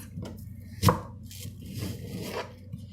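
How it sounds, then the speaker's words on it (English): A knife slices an onion in half on a cutting board, one sharp thunk near the start and then quiet handling noises, close and fairly soft. "then you cut the onion"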